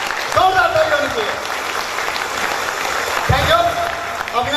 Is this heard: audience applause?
yes